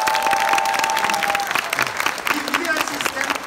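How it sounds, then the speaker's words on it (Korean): Audience clapping at a corporate seminar, a burst of applause that thins out as a voice comes in over it, with a brief tone ringing early on. "자, 박수 한번 쳐주세요"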